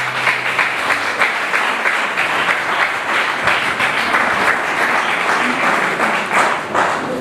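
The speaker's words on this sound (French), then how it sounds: "Est-ce qu'on peut l'applaudir?" Applause from a crowd at an evening event in Switzerland, a continuous dense wash of clapping with a faint pulsing rhythm, loud and close throughout, with no voices breaking through.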